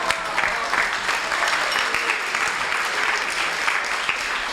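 Banquet guests at a conference dinner give the chefs a round of hearty applause, dense continuous clapping filling the room at moderate volume throughout.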